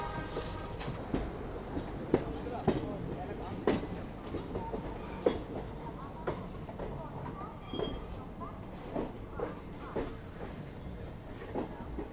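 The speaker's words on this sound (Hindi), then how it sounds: "ये तो डेमो ट्रेन है जिसकी शंटिंग कर रहा है एल्को लोकोमोटिव" An ALCO diesel locomotive shunts a DEMU train on an Indian Railways line near Jhansi, heard as rhythmic wheel clatter and clanks over rail joints at a moderate distance, with a voice talking over it.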